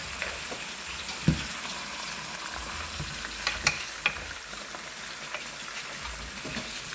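Onions and meat fry in a pan, a steady close sizzle and crackle with occasional pops and scraping stirs, no voices heard.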